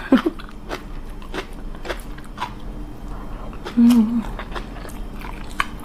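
Rice mixed by hand with Burmese-style fermented fish chili paste is eaten in close, wet chewing and soft crunchy bites, repeated irregularly with a brief low voice sound in between.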